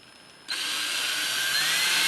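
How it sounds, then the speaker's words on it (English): A power drill starts abruptly and runs at a high, steady whine as it bores pilot holes into wood for deck screws, close and loud with its pitch holding for under two seconds. "So we'll just drill a couple pilot holes in each end here, and then screw them together."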